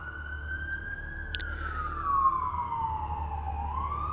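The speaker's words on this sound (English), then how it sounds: "I hope that the sirens behind me aren't too loud for you." An emergency vehicle siren wails outdoors at a moderate distance, one slow rising and falling tone sweeping over a low steady traffic rumble.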